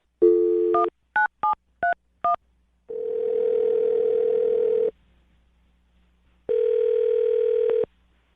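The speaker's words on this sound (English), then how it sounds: "I'm going to dial her phone number right now." A telephone number is being dialed: a short series of five quick touch-tone beeps, then two long ringback tones separated by a pause, clear and alone.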